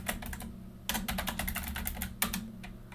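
Rapid bursts of computer keyboard typing enter Cisco router commands, dense clusters of close clicks separated by brief pauses over a faint hum.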